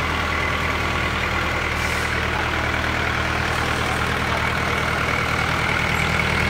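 Kubota L5018 tractor engine running at a steady idle, a continuous low diesel rumble that stays loud and close with no voices.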